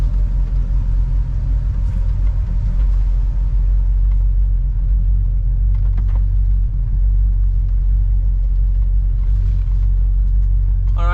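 A 1969 Plymouth Fury III engine rumbles in a steady low drone while the car creeps slowly in reverse, heard loud and close from inside with faint incidental noises.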